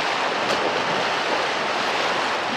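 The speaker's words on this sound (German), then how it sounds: "Welcher Genuss, wieder in dem köstlichen Wasser zu baden und das Brausen des Sees zu hören." Roaring waves of a lake, a loud, unbroken broadband wash of surf, heard close and steady with no talk.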